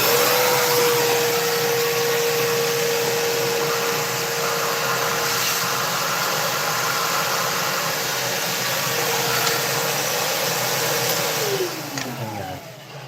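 A vacuum cleaner runs steadily during work on a 1996–2005 Chevy Astro AWD, a loud, continuous whine held for several seconds before it winds down at the end.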